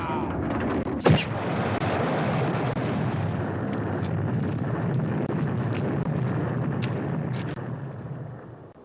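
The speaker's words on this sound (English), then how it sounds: "That's the biggest explosion I've ever seen." A huge explosion blows the top off a mountain in the FMV game Piper, heard as a sharp blast followed by a long, loud, sustained roar and rumble that fills the scene.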